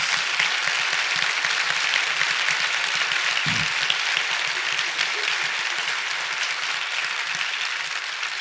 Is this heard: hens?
no